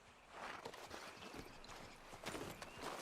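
Horse hooves clip-clopping in Red Dead Redemption 2, a steady walking rhythm of soft thuds, fairly faint and close, with no talk over it.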